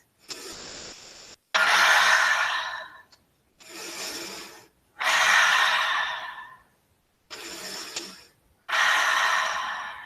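Slow, deep yoga breaths held in warrior two pose, six breaths in all, each a long airy inhale or exhale with short silent pauses between, close and clear with no talk.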